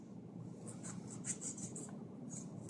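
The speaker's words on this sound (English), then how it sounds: "Let us cut the onions." Knife cutting onions on a board in a home kitchen, a series of soft, crisp taps and chops in an uneven rhythm, close by and fairly quiet over a faint background hum.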